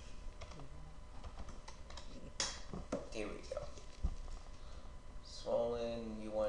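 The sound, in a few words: typing on a computer keyboard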